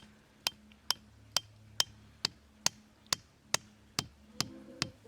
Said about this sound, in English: you want to hammer it gently